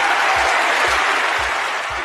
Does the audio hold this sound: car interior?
no